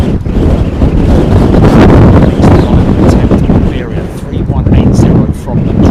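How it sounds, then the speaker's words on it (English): Strong gusty wind at London Heathrow Airport during Storm Nelson buffets the microphone in loud, rough, continuous roaring bursts that swell and ease over several seconds. "Lots of gusty conditions at the moment here."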